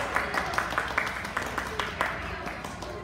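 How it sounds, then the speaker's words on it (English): A small group of people clapping their hands during a children's gymnastics session, quick uneven claps over a steady background of voices and gym noise. "Everybody, clap your hands."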